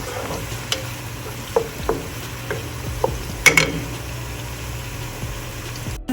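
Ground chicken and a big onion frying in a pan, with a low steady sizzle under scattered clicks and scrapes of stirring.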